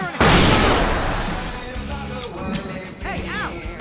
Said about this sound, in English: I can set off more of the fireworks from here